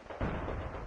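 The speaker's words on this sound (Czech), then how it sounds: "Dělo." A cannon firing in the Company of Heroes 2 battlefield, a sharp boom near the start that rolls into a sustained low rumble of battle noise for under a second.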